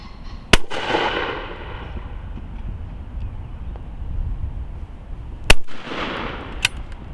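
A Zoli One shotgun fired at clay targets outdoors, three loud sharp blasts, one early and two close together near the end, each trailing off in a long echo.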